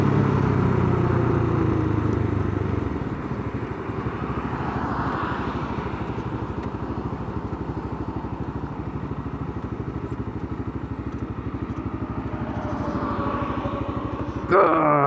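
Lifan X-Plore 200 enduro motorcycle engine running steadily close by, a continuous loud drone with a deeper rumble at first and slight rises in pitch, ending with a brief knock.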